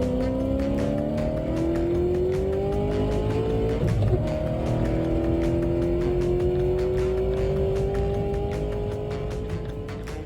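Chevrolet Camaros race in a video game, engines roaring loudly as they accelerate through rising gear changes, with tire squeals and a sharp scrape around the middle, the din fading slightly at the end.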